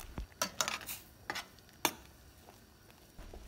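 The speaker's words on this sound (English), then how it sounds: "Mix the coconut paste very well" A spoon stirs ground coconut paste into cooking brinjal in a pot, giving several irregular scraping clinks and soft wet stirring strokes over a faint simmer, with no talking.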